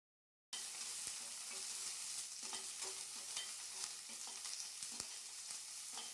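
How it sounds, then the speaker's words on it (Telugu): Coriander leaves fry in a pan with a steady crackling sizzle, broken by frequent scraping and clinking stirs of a utensil against the pan, fairly close and alone. "కొత్తిమీరని వేయించుకుందాము."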